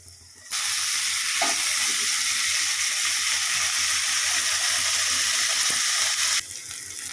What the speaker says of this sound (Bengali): রসুনটা ভাজা হয়ে গেলে এর মধ্যে আমি মিশিয়ে দেব চিকেনের টুকরোগুলো